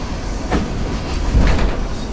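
Loud rumble of an ED9M electric commuter train running nearby under heavy traction, with a steady low drone and faint clacking of wheels over the rails, no voices.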